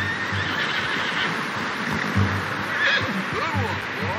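In a video game, a horse gives a loud, close whinny with rising and falling cries near the end, over a low steady hum and faint hoof movement.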